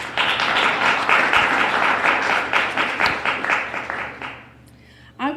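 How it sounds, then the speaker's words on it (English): Audience applause at a press conference marking 52 years in the entertainment industry, a dense steady burst of clapping lasting several seconds before fading out, with a voice starting up briefly at the end. "Let's give them a round of applause."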